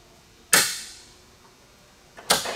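Two sharp rifle shots during test-firing, each a crisp, loud crack with a short decaying tail, spaced about two seconds apart, with no talk.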